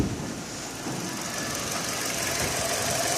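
Four-cylinder car engine idling with the number four ignition coil unplugged, giving a steady close-up rumble with an uneven, slightly knocking misfire running through it, and no talking.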